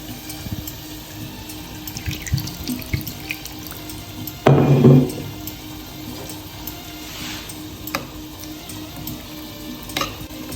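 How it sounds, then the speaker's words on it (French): Tomato paste in a pan being thinned with a small splash of water for a Tunisian couscous with dried lamb and vegetables, a brief watery pour and stir in the middle amid faint kitchen noise. "Donc je vais la délayer avec un tout petit peu d'eau."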